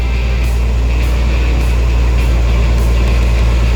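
A truck with air brakes idles after its clutch is let out, building air pressure; a loud, steady low engine rumble runs unbroken throughout, close by, with no voices.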